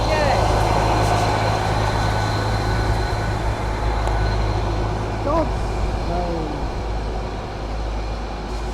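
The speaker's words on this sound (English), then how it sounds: "Departing now is your 1328 East Midlands Railway service from London St Pancras to Sheffield with Ben's favourite 810." An East Midlands Railway Class 810 departs from Chesterfield station on the Midland Main Line, a steady low engine drone filling the platform and fading slightly toward the end.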